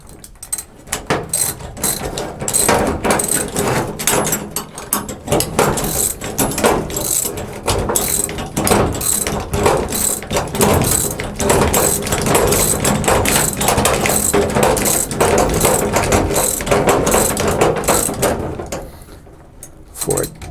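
Steady ratcheting clicks from a socket wrench tightening a nylon lock nut on a seat belt mount in a classic Chevy/GMC truck, dense and continuous for most of the clip, close and loud, then stopping near the end.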